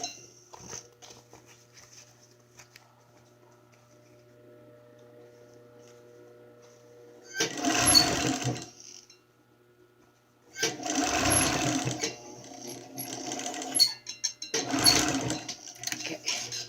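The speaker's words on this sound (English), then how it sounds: "we're going to sew together this piece together" A sewing machine stitches cloth mask pieces together in three running bursts of motor whir and needle clatter, separated by short quiet pauses, close and clear with no talking.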